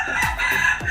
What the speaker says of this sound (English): You hear the rooster?